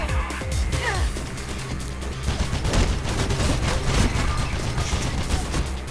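Dense, sustained machine gun fire from the video game Mirror's Edge, with loud rapid bursts of shots and clanking impacts running continuously throughout, no talking.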